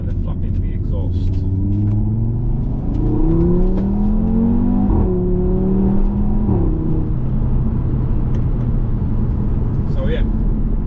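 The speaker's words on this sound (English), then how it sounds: "I'm not sure what will happen with the engine sound, but I think it will open a flap in the exhaust." A 2.5-litre TFSI five-cylinder engine in an Audi RS3 with an exhaust flap revs up and down repeatedly, a loud rising and falling rumble heard close by under continuous talk.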